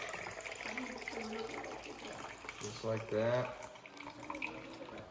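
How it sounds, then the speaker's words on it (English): Water being poured out of a jar while preparing a sauerkraut lacto-fermentation starter, a running, splashing liquid sound under a nearby voice that briefly speaks. "we'll just pour the water out."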